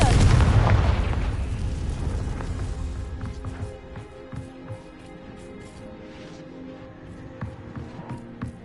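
A Confringo fire spell in the Hogwarts Legacy wizarding game goes off as one loud, deep explosive blast that rolls on and fades into a low rumble, with scattered faint crackles and small impacts trailing behind.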